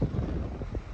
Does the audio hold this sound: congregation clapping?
no